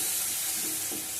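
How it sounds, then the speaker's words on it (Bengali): Sliced onions and green chillies fry in hot oil over lowered heat, giving a dense, continuous hiss that stays close and steady for a moment. "ভালো করে লাল লাল করে ভেজে নেবো"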